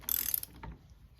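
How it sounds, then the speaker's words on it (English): Spring being tightened down on a Porsche 911 (996) suspension, a quick burst of ratcheting clicks near the start followed by a duller metallic clunk and faint handling noise. "I'm just tightening down the spring now"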